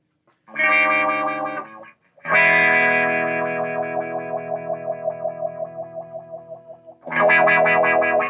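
Electric guitar strummed through a distortion and modulation effects pedal, three chord strokes with the middle one held and pulsing in a wobbling chorus-like sweep as it decays, then a final hard strum.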